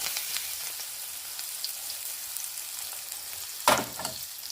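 Beaten egg and onion mixture for an omelette hitting hot oil in a pan: a steady bright sizzle with a sharp louder hiss burst near the end, close and without talk.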